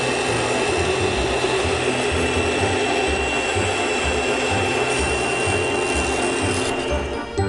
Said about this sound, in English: the ring blade grinds as it cuts